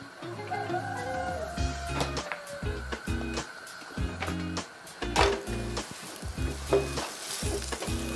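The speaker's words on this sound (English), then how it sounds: "When you are browning the tortillas, make sure you're pressing it to the pan so that it cooks evenly." A tortilla chapatti browns in a pan over high heat, giving a loud, steady sizzle and crackle with repeated scraping and pressing strokes. There is no talk.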